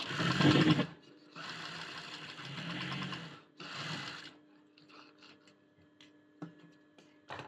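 A sewing machine stitches a school uniform collar in close, loud bursts, with a long run in the middle and shorter runs around it, then quieter rustling and small clicks of fabric handling.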